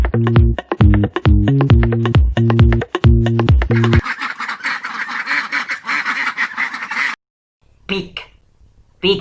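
Ducks quack in a brief noisy burst lasting a few seconds, following a rhythmic musical jingle and trailing off into a couple of short sounds, set in a children's animal-sounds vocabulary lesson.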